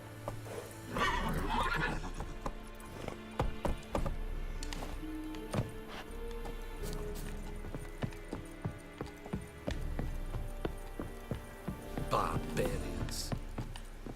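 Roach, Geralt's horse in The Witcher 3, whinnies and its hooves clatter in an uneven trot or gallop, with scattered thuds and clicks and some speech in the background.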